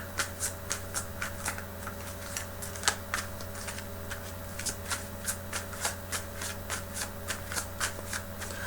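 Tarot cards being shuffled by hand in quick repeated riffles, a steady run of crisp papery flutters and taps close by over a low constant hum, with no talking.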